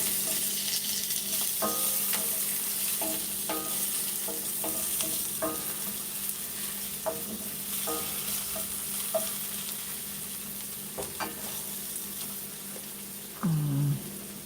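Pork rib fried rice with mushrooms and green beans fries in a hot pan under a constant sizzle, with irregular scraping and tapping as a utensil stirs it, and a short louder clatter near the end.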